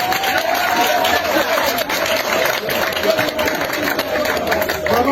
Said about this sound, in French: Applaudissez encore